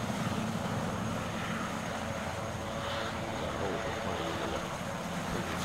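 A firefighting helicopter's engine and rotors in the ArmA video game, a steady droning whir with no voices.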